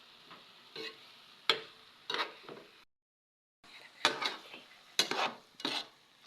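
Adobo seasoned with pepper and soy sauce cooks in a pan, with soft sizzling and repeated scraping stirs in short bursts, one brief silent gap midway.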